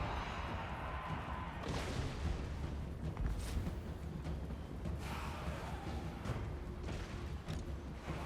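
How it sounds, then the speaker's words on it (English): In a Total War: Warhammer multiplayer battle against Vampire Counts, two gunner units fire repeatedly. Dull booms and cracking shots ring out over a constant rumble of battle noise, with no talking. "now there's like 2 gunners like sitting there firing at me"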